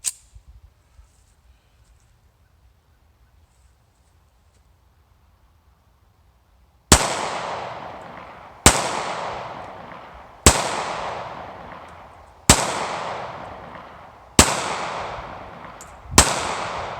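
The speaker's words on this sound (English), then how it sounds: "And so let's tear a couple rounds off," Pistol fitted with an Ingenious Gun Works trigger, sear and barrel bushing firing six sharp, loud shots spaced roughly two seconds apart, each with a ringing decay, after several seconds of near silence.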